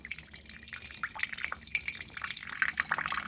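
Water trickles and drips from a leaking Stanley tumbler mug, a quick irregular patter of small splashes and droplets close up, fairly quiet and continuous with a faint background hum.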